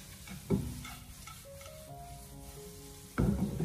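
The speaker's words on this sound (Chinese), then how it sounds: "给它大火翻炒2分钟左右，把酱油的酱香味翻炒出来" Noodles tossed with soy sauce in a wok over high heat give two sharp scraping, stirring bursts over a low frying sizzle, with a thin tonal hum in between and no talk.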